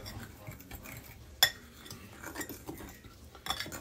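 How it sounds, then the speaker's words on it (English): A flour and sugar mixture stirred in a bowl for an apple pie, with soft, uneven scraping and one sharp utensil clink against the dish, fairly quiet and close. "We're just gonna stir that mixture up, get it all mixed together."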